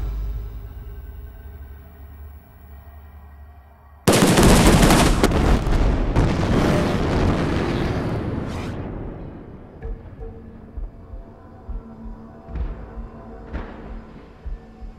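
A loud explosion detonated after a warning, erupting suddenly with a heavy broadband blast that rumbles and decays over several seconds, followed by a few faint scattered pops and debris sounds.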